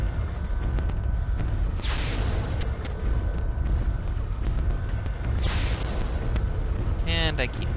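Long-range missiles firing from a mech in MechWarrior 3, two whooshing bursts a few seconds apart over a constant low battle rumble, with a short warbling electronic tone near the end.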